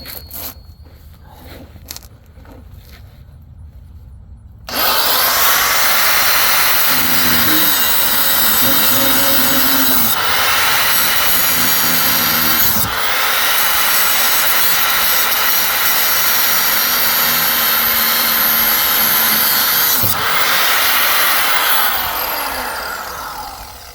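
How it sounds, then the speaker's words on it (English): An angle grinder's cutting wheel slices through parts under a Ford S197 Mustang during a budget suspension install, starting abruptly after faint background noise and holding a loud, steady high-pitched whine for nearly twenty seconds before tapering off. "I'm gonna put on a new cutting wheel. That one's a little worn down."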